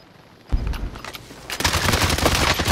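Rapid gunfire from a battle royale video game erupts suddenly, bursts of shots hitting hard and continuing densely, then growing louder and more sustained toward the end with no talking.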